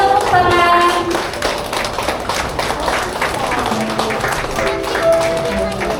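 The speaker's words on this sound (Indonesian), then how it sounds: "Ya, mari kita kasih tepuk tangan." Wedding guests at a marriage blessing clap as the groom's family walks in, a dense steady patter of applause mixed with chatter and tonal voices throughout.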